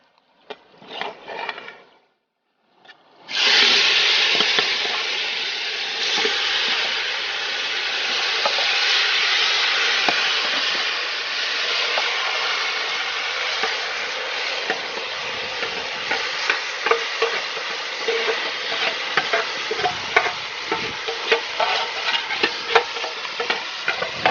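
Chicken for Hyderabadi green chicken sizzles loudly in a hot pan, a steady hiss and crackle lasting over twenty seconds, with occasional stirring scrapes after a brief quieter start.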